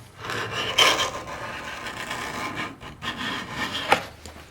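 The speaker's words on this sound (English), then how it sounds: "the scraper does a really good job" A sharp hand scraper strips old finish from a wooden chair down to bare wood, making repeated raspy scraping strokes, close and fairly loud, with two stronger pulls standing out.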